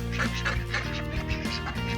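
Several ducks quack and honk in quick, overlapping calls close by, a busy little chorus of fowl.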